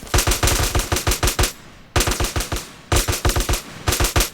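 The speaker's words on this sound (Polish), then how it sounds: "MK to jest moja ulubiona broń w tej grze. Karabin to jest." An MK rifle in GTA San Andreas fires in three rapid bursts of sharp, close, loud shots, each burst separated by a brief pause.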